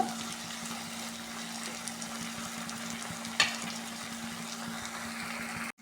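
Snake gourd sizzles and fries steadily in a pan in a home kitchen, a constant soft crackle with a single clink of a stirring utensil partway through.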